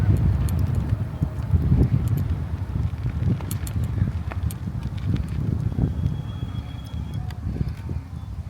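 Steady, loud wind buffets the microphone throughout a waterfront ride along the Lake Ontario shore at Oshawa, a continuous low roar with no clear pauses.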